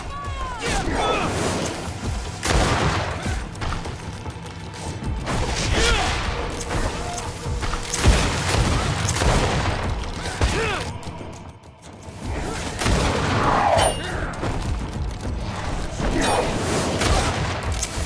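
Musket volleys crack out during a battle in the game Greedfall, a few broad bursts spread over the stretch with whooshing and clattering between them and voices mixed in.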